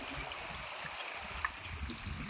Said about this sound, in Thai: มีน้ำตกแล้วนะครับ